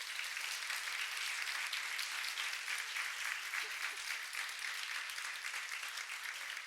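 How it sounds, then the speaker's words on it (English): Steady, dense applause from an audience in a research breakfast event at a faculty of medicine, thanking the speakers; the clapping is loud, continuous and even throughout, with no voices standing out. "One more round of applause for the speakers."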